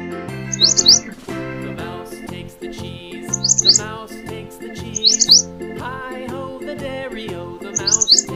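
Bright bulbul chirps come in short bursts every few seconds over a melodic children's song accompaniment with steady plucked and keyed instrumental notes.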